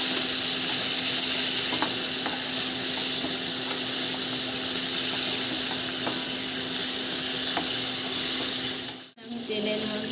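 Prawns fry lightly in hot oil for a prawn malai curry, a steady bright sizzle running continuously with a few faint clinks, cutting off sharply near the end.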